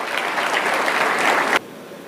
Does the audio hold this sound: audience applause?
yes